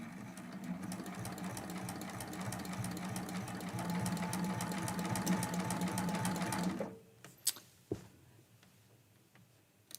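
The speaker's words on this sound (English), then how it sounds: "I'm going to lower that needle and I'm going to take a couple little stitches before we start" A sewing machine stitching down brown flannel tree appliqué pieces on a quilt block, a steady rapid mechanical chatter for about seven seconds that then stops, leaving a few faint clicks and handling sounds.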